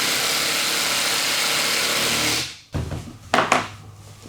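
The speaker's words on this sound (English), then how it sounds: "we're going to use our trusty impact" Impact driver whirring as it tightens a bolt on a firewood kindling cracker, a steady loud buzz for over two seconds that cuts off, followed by a few short sharp bursts of hammering.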